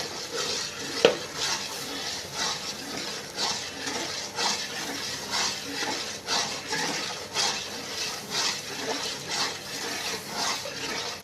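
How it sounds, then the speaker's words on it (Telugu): Rice semolina is stirred into boiling water in a pot, a soft, steady scraping and swishing with repeated strokes, close and quiet, with faint bubbling beneath. "రవ్వ వేసుకొని బాగా తిప్పుకోవాలి"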